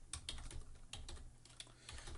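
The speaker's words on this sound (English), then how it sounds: "sometimes fast typing results in errors" Fast typing on a computer keyboard, a rapid run of soft, close key clicks with uneven rhythm at low volume and no voices.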